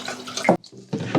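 Water is poured from a tap-like stream into a semi-hydroponic container holding a Ficus benjamina, a close, loud splashing flow that breaks off briefly in the middle and then resumes.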